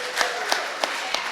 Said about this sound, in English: Let's have another round of applause for Jennifer for Kimmies Recovery Zone.